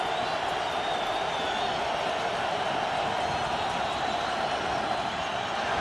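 A large crowd rumbles through a stadium at a Philadelphia Eagles home game against Washington in 2010, a dense, steady wash of distant voices with no distinct cheers or peaks.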